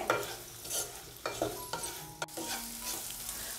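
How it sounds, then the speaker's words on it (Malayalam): Okra being sautéed in a pan over a medium flame for bhindi masala curry, a continuous sizzle broken by several sharp spatula scrapes and stirs. "വീണ്ടും ഏകദേശം 1 മിനിറ്റോളം നമ്മൾ ഈ ഒരു മീഡിയം ഫ്ലെയിമിൽ വെച്ചിട്ട് നല്ലതുപോലെ ഒന്ന് വഴറ്റി കൊടുക്കണം"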